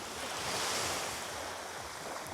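Steady wash of surf rolling onto a beach at Palma de Mallorca, a continuous broadband roar with light wind noise, close and fairly loud, no voices.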